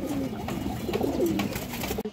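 A restless pigeon coos in a loft of fancy pigeons, a close, low burbling call rolling along for about two seconds with no talk over it.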